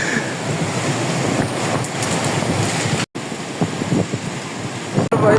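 A stormy downpour with strong wind pounds a village home, a dense continuous roar with a couple of abrupt momentary drop-outs.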